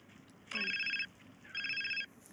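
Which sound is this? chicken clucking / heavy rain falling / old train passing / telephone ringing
telephone ringing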